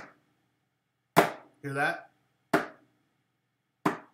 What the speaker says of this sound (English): letting my first finger slide off of my second finger onto the tabletop.